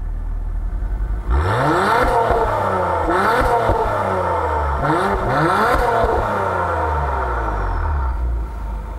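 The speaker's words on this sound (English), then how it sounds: "Acura spent some time making sure the exhaust sounded good" A 2021 Acura TLX Type S in Sport Plus mode with exhaust baffles open revs hard several times, the exhaust rising and falling in loud, throaty bursts with a steady rumble between them.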